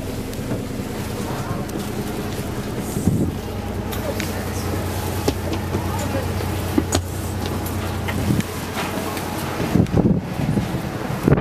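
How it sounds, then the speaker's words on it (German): A De Lijn hybrid city bus on line 16 in Brugge drives through town, its steady engine hum and road rumble continuous with occasional rattles and knocks from inside the cabin. "weil ich wollte noch ein bisschen Hybridbus fahren durch die City"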